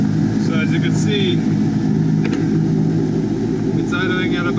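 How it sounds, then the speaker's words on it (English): A Mitsubishi DSM 4G63T turbo engine idles steadily around 1500 rpm, a constant low rumble running nearly alone with a few faint higher tones over it. "it's idling at about 1500 right now, but it goes up to 2000 sometimes"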